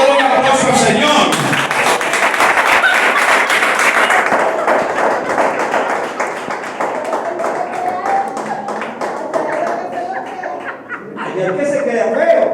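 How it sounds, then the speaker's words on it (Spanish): Congregation clapping during a church service, a fast rhythmic run of claps, loud and close, with voices and some laughter mixed in. "un aplauso al Señor."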